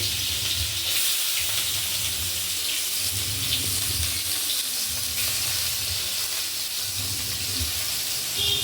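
Onions, coriander leaves and tomato sautéing in a pan after mustard seeds have popped, a dense, even hiss of frying that carries on steadily up close with faint stirring and no talking.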